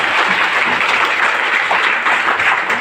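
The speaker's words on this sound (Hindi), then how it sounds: "जबरदस्त ताली बजाइएगा।" Loud, sustained audience applause fills the space evenly, a dense continuous clatter of clapping with no talk over it.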